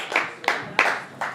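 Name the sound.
round of applause for Richard Montano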